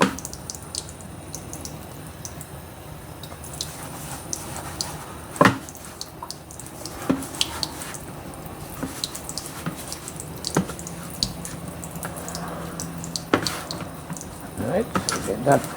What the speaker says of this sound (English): Alright, so you can turn the water off.